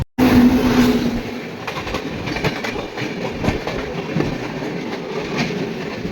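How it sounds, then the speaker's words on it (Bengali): The Jammu Tawi Express passenger train rolls along at night in the rain, heard from inside a carriage as a loud, continuous rumble with rhythmic clickety-clack of wheels over rail joints and occasional faint squeals. "গায়া থেকে মোটামুটি সত্তর কিলোমিটার পথ অতিক্রম করে চলেছে আমাদের এই ট্রেন"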